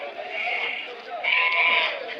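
A Sinnur breed lamb bleating in drawn-out, wavering cries close by, with a person talking over it.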